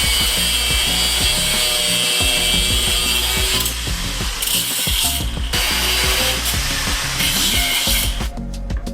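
A power tool trimming the spindles of a 600cc drag quad: loud, steady cutting and grinding with rapid rattling pulses, briefly interrupted a few times, with no talk.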